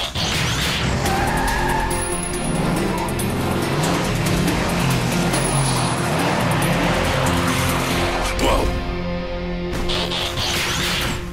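Robot in vehicle mode spinning its wheels in Sahara desert sand, a loud continuous engine roar with squealing, churning tires that fail to grip, sustained throughout with no talking.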